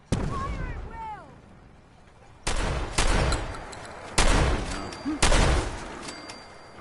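Gunfire in Fallout 4: heavy, loud broadband blasts arrive in separate bursts about a second apart, with voices shouting between and under them.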